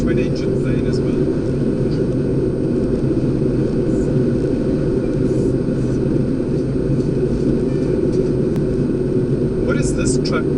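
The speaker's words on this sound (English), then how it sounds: "Twin engine plane as well." Loud, continuous low drone of a twin-engine propeller plane, an SAA airliner, passing overhead, a steady rumbling roar with no voices.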